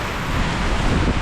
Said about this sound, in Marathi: इतका जोरात वारा आहे.